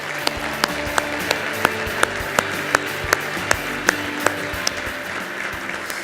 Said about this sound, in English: Let's give them a round of applause for all their contributions.